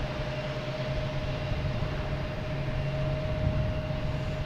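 An SAS airliner departs Boston Logan for Copenhagen, its engines a steady, broad roar with a constant whine over a low rumble, heard at moderate distance and unbroken throughout.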